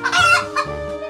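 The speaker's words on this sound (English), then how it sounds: "Gallina, hen." A hen clucks several times in quick, choppy bursts, close and fairly loud, with no talking.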